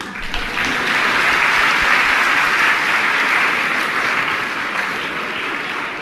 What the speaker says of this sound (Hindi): और देखो इसमें भी ज्यादा जोरदार तालियां घरवालियों ने बजाई है